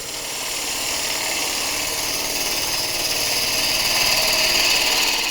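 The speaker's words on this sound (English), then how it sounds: "I'll just nip that little end off on the bandsaw" A bandsaw cuts the small end off a wooden bowl's tenon, a steady close whirring cut with a slight rise in pitch over a few seconds, no voices.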